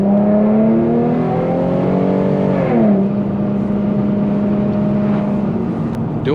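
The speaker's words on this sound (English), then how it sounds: "The vibrant resonator and muffler delete exhaust is crazy, y'all." An Infiniti G37 with a resonator and muffler delete exhaust pulls hard, the loud engine note climbing through a gear, dropping at a shift, then droning steadily on.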